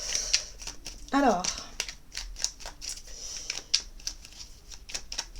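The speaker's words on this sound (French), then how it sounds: "on va regarder avec le petit oracle AstroZen pour commencer le tirage" AstroZen oracle cards are shuffled for a reading, with quick papery riffles and soft taps repeating close by while a voice talks over them.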